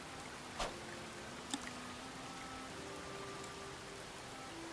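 Steady, soft video game rain patters throughout, with a couple of brief taps standing out; no voices.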